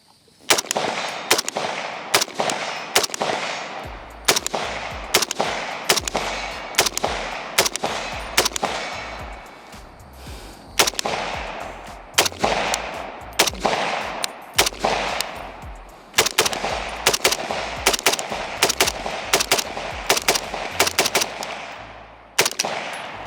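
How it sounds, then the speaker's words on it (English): An M&M Industries M10X Plus rifle empties a full magazine in rapid shots, loud and close. The bursts are sharp and evenly spaced, with brief pauses between groups, and each report rings out with echo. "We're gonna put a mag through it and then I'll talk about it, but let's give her shit."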